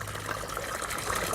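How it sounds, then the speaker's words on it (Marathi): Water pours from a pipe into household pots, a steady gushing fill that runs continuously and fairly close, with no talking over it. "भांडी भरून ठेवायची"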